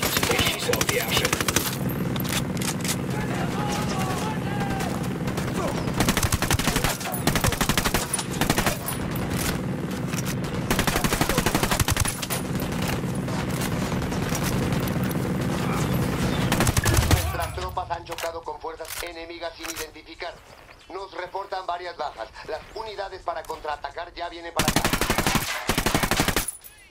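Sustained automatic gunfire and rapid shots from a Ghost Recon Wildlands firefight during a special transport mission, loud and dense for most of the clip, with voices talking over it before a quieter stretch and a final burst.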